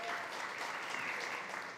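Brief audience applause at a food-themed conference event, a dense, even burst of clapping from a crowd, fairly faint and distant.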